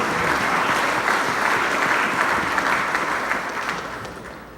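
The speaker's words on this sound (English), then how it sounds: "Give her a round of applause" Audience applause at a sports awards ceremony, a broad, sustained burst of clapping from a large crowd that holds strong before tapering slightly near the end.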